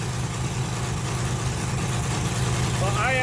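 An LS-swapped S-10 truck's V8 engine idles on seven cylinders because of a missed plug wire, a loud, steady, uneven low rumble up close, with a voice over it.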